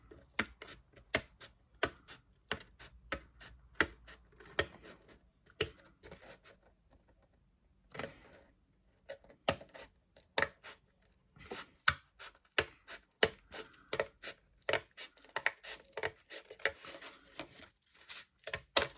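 Cardboard being cut along drawn lines, heard as a close, irregular series of crisp snips and crunching cuts with short pauses between strokes.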